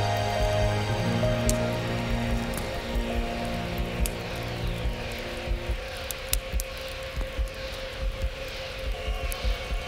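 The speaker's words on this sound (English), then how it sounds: "Suddenly, dark clouds gathered, and raindrops began to fall." Steady rain falls in a broad hiss with scattered drops pattering, joined early on by a low droning hum that fades out partway through.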